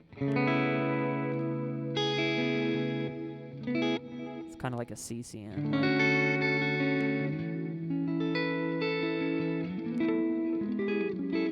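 Electric guitar chords through a Line 6 Helix Floor's glitz reverb, ringing with a shimmering, glittery, chorus-like wash, a brief noisy burst midway and a spoken phrase over it.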